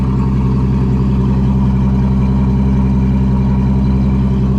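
Aston Martin DB11 V12 engine running in a steady, loud, continuous drone, heard close up from inside the car with no talk over it.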